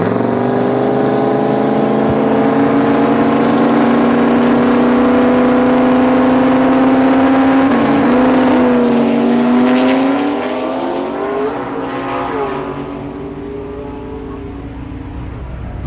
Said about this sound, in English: They power up the engine, wind up the turbo